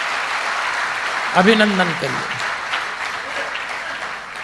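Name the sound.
loud applause from audience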